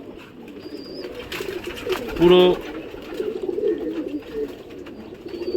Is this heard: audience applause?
no